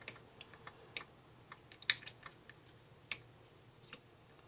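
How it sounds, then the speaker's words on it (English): Hobby cutters snip around a plastic miniature base for a Warhammer 40,000 model. Sharp, close clicks come at an irregular pace over a quiet background. "let's get our hobby cutters"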